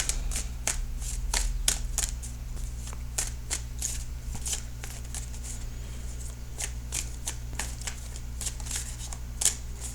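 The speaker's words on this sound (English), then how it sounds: "A few more shuffles here." Tarot cards are shuffled over and over, close and crisp, producing quick rhythmic riffles and snaps over a low steady background hum, with no talking.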